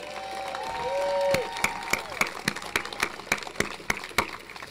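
A crowd outdoors at a Columbus statue for a Columbus Day celebration gives scattered applause and whoops, sharp individual claps spaced out after a sustained cheering voice.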